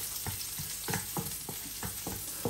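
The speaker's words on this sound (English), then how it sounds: "And then I fry this one." Red pesto pasta with broccoli frying in a pan, a steady close sizzle broken by rhythmic scraping stirs about every quarter second.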